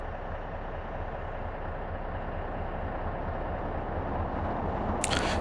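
Trains running in the Workers & Resources: Soviet Republic video game, a continuous low rumbling rail drone with a steady rolling texture, joined by a brief bright clatter near the end.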